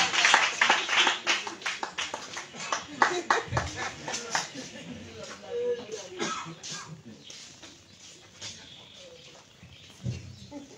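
A church congregation at a spiritual warfare vigil claps and cheers for the Lord in a burst of applause that fades out over the seconds, with voices mixed in.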